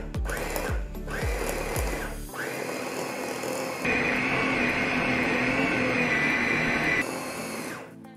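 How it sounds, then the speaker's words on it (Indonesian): An Ecohome EFP 333 food processor grinds chopped chicken meat, starting with a few short pulsed bursts, then running in a steady loud whirring drone whose pitch shifts partway through before winding down. "saya ingin giling daging nih"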